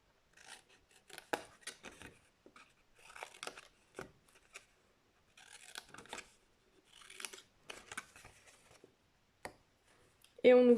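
Paper is cut at a bevel with scissors in short bursts of close snipping and rustling, separated by quiet pauses, with a voice briefly at the end.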